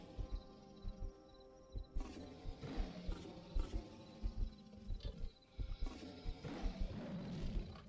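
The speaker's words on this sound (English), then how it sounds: "So those, I believe, are his alerted roars" A dinosaur in a Saurian video game mod gives repeated alerted roars and low grunting calls, with bursts of rumbling growls coming in irregular pulses. The calls are moderately distant and are heard alone, with no talk over them.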